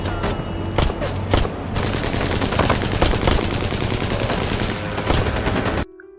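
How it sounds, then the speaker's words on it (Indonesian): Sustained automatic gunfire rattles through a police shootout in a film, with dense rapid bursts and sharper single shots layered over a steady roar. The barrage continues for several seconds, then cuts off abruptly. "Baku tembak pun berlangsung cukup lama."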